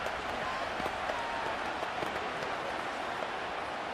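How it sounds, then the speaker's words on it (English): Steady crowd roar from a stadium in the Madden 25 football video game, a dense, unbroken wash of noise that fills the whole stretch at an even level. "this crowd making it hard to hear"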